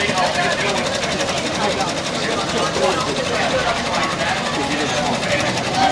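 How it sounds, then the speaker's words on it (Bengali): A machine making stuffed toy dolls inside the FAO Schwarz toy store in New York, a steady loud mechanical whirring and clattering amid dense crowd chatter and store noise. "এখানে মেশিনে পুতুল তৈরি হচ্ছে।"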